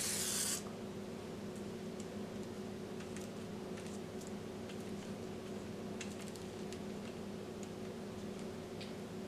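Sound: spray bottle spraying olive oil on sorullitos

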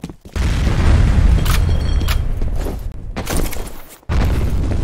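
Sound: grenade explosion in the video game F.E.A.R

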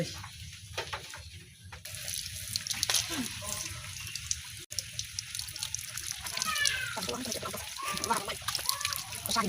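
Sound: water running while washing a pangas fish

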